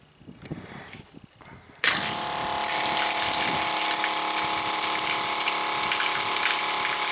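A softwash system pump starts and runs steadily with water flowing during a flow-rate test. A loud, continuous rushing hiss and motor drone begin abruptly after a quieter stretch of background noise, then hold level to the end.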